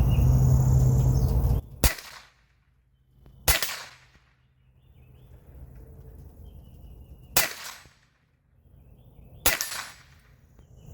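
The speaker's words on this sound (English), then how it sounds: "It is hard to miss with this thing. Shooting every single target out there." Gunshots fired at targets at an outdoor shooting range, four sharp cracks spaced a couple of seconds apart, each with a short decaying tail, after a brief burst of low rumbling noise at the start.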